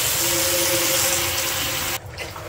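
Very hot water pouring from a tap or kettle onto percarbonate powder in a container, a loud steady rushing gush that stops abruptly near the end, leaving a faint trickle.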